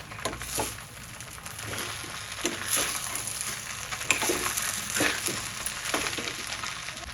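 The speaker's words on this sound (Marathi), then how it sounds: "5 मिनिटं छान परतून घेऊया" Vegetable fried rice with soy sauce stir-fries in a pan, a soft steady sizzle with scattered scraping and tossing clicks from the spoon, close by and fairly quiet, with no voices.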